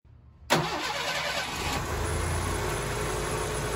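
A 1985 Ford Mustang engine cranks and catches abruptly after a moment of near silence, then settles into a steady, close, loud idle.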